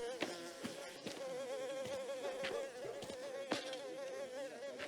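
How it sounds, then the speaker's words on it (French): Flies buzz continuously in the video game Mafia: The Old Country, near horse dung, with a steady droning hum, close and fairly quiet, punctuated by a few brief clicks and taps. "Ah, les mouches."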